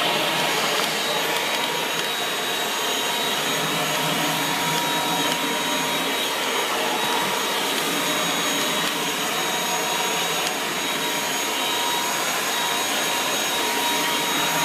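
Dyson V8 Total Clean cordless vacuum cleaner running with the long pole and top tool fitted, a loud, steady high-pitched whine that holds constant throughout while cleaning around the house.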